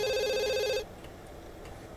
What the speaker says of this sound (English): the phone is still ringing